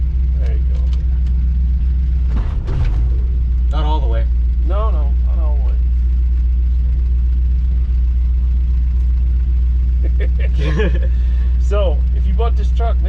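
A 1965 rat rod truck engine idles with a steady low rumble while someone talks briefly over it and the clutch is worked; the engine note stays constant throughout.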